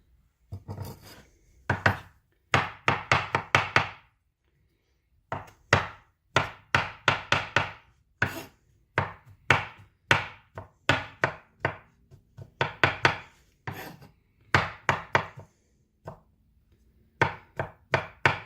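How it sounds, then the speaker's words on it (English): Mushrooms being chopped with a knife on a cutting board for cream of mushroom soup, a quick rhythmic run of crisp taps in bursts of several strokes with short pauses between, close and clear with no talking. "I'll be chopping up the mushrooms"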